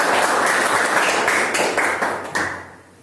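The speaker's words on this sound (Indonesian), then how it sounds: "Beri tepuk tangan untuk kelompok Surya dan Arka" Students in a classroom applaud a presenting student group, a dense wash of many hands clapping at once, steady and loud before tapering off near the end.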